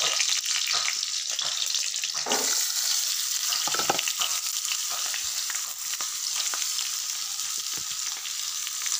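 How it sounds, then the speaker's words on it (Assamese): Small potatoes, soybean chunks and onion sizzle steadily in oil in a wok, a dense continuous frying hiss with occasional scraping stirs and spatters, close and fairly loud, with no voices. "সৰু আলুগুটি আৰু চয়াবিন ভাজিবলৈ লৈছোঁ"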